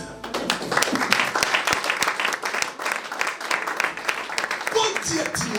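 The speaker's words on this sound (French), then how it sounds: "On acclame le Seigneur." A church congregation breaks into steady, dense applause and cheering to acclaim the Lord, filling the room with sustained clapping that continues through the whole moment.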